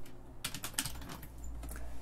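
Fingers tap out an email address and password on a computer keyboard in a quick, uneven run of close, crisp keystrokes with no talking.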